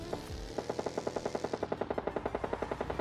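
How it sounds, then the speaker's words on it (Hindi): Automatic gunfire in the video game PUBG Lite rattles off in a fast, even burst of about two dozen sharp shots, heard mid-distance and without any talking. "सामने साइड से यार मेरे को फायरिंग साउंड सुनाई देता है"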